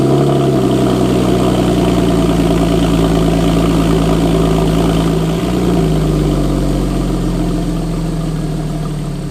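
A Porsche 997 engine with a center muffler bypass idles loudly just after a cold startup, a steady deep rumbling drone that holds even, dipping briefly once and settling slightly lower toward the end.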